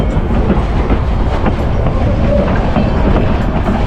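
A train rumbles past close by in Skagway, Alaska, a steady broadband roar with rhythmic wheel clatter on the rails throughout.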